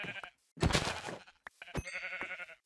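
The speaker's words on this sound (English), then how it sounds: "gotta butcher a couple of sheep quick." Sheep bleating in the Minecraft video game, a few close, loud game bleats with harmonic tones spread across the short clip, alone without talk.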